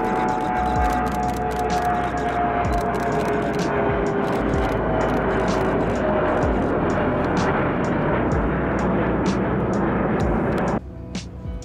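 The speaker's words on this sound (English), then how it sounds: "Delta CRJ 900 departing Minneapolis." A Delta CRJ 900 regional jet departs Minneapolis, its steady, loud broadband engine roar filling the scene with no break until it drops slightly near the end.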